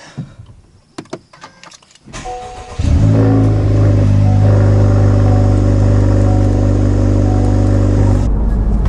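An FL5 Honda Civic Type R engine cranks and catches after a few clicks and rustles, then settles into a loud, steady idle with a raised rev that holds close by.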